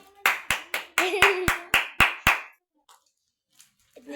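Nine sharp hand claps in a quick, even rhythm, close and loud, over a short stretch of voices, then near silence with a few faint noises at a lively sour-and-sweet candy challenge at home.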